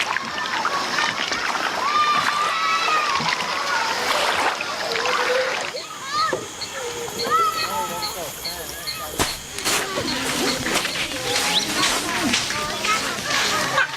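People swim and splash in the Amazon river with repeated splashes and sloshing water, near and lively. Bright, high voices of children and other people call out over the water throughout.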